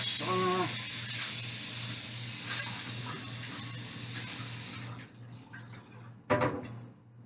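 Water runs from a kitchen tap in a steady, close hissing stream while something is rinsed off, then stops abruptly, followed by a brief splash and faint clatter.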